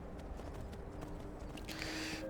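Horse hooves walking along a mountain route in Skyrim, soft repeated thuds under a steady rumbling ambience, with a brighter hiss swelling toward the end.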